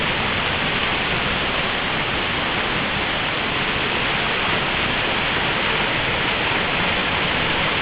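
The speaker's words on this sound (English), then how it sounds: "And this is Empress Falls. What a stunning fall." Empress Falls, a waterfall after a season of heavy rainfall, gives a steady, unbroken rushing roar of falling water that holds an even level throughout, with no voices.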